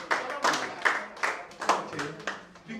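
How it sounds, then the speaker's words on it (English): A class of young children at a summer camp claps together in rhythmic bursts of about six claps in under three seconds, close and clear with voices mixed in. "Let's clap for mommy today."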